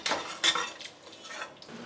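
Metal cooking pot set down and handled on the stove to prepare tempering for homemade rasam, a few close, bright clanks and scrapes with short gaps between them.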